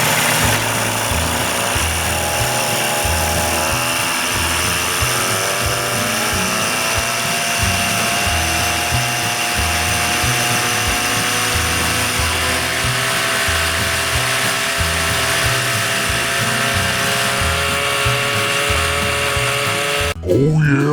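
An Evinrude 40 outboard motor with a fuel-related problem runs loud and steady, its rough, buzzing idle continuing for about twenty seconds before cutting off abruptly near the end.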